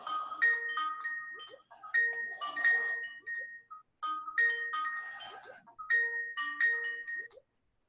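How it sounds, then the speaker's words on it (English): A phone ringtone plays a repeating electronic melody in four bursts with short pauses between them, clear and alone. "And Beth is going to get another phone call here."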